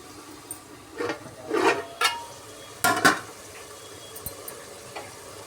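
Tomatoes and onions frying in a pan for biryani, a low sizzle under a handful of louder clanks and scrapes as the mixture is stirred, no speech.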